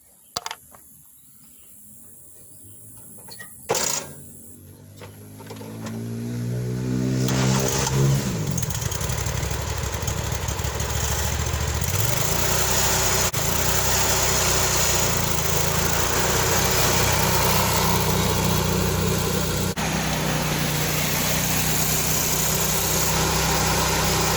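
A Walker mower with a Kohler engine, fresh after an ignition coil replacement, cranks with a couple of clunks, starts, then revs up into a loud, steady drone that holds throughout the test mow.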